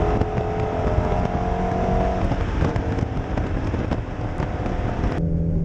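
Shelby GT350 Mustang V8 with an 8,200 RPM redline, revving hard in a close, loud, continuous run of engine roar that drops away sharply near the end.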